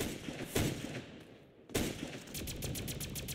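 Gunfire in an online shooter video game, bursts of rapid shots, loud and close, broken by a brief lull, then a fast rattling volley near the end.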